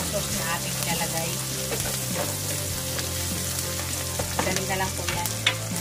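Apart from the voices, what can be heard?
beef frying and stirring in a pan for kaldereta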